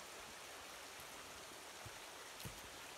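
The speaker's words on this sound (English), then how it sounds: "we've been near this brook for a while, which is quite stunning" A brook flows beside a hiking trail on Cape Chignecto, giving a faint, steady wash of running water with a couple of soft splashes and no talking.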